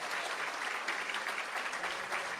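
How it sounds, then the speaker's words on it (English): Steady applause from an audience at a school board meeting, dense and continuous clapping at moderate distance with no pauses. "Let's give Braden and his coach a round of applause."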